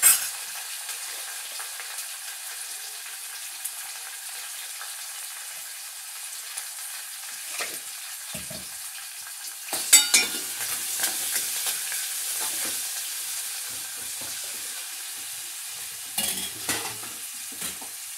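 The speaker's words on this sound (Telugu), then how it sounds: "ఇది కొద్దిసేపు వేగనివ్వాలి." Ingredients for a Telugu pachi pulusu frying and sizzling in a pan, a steady hiss with occasional stirring scrapes and brief louder crackles, no talking.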